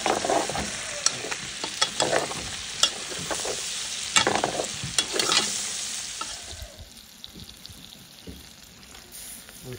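Onions, chili and tomato frying in a pot for a Réunion rougail, a loud steady sizzle with repeated scraping stirs and clatters close by, the sizzling calming and fading in the final few seconds.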